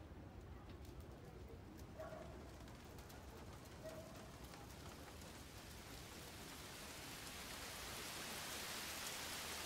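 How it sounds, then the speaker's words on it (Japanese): Rain falling in the video game Like a Dragon: Ishin!, a steady hiss of rainfall with faint bird calls early on, swelling louder and fuller toward the end. "雨か。"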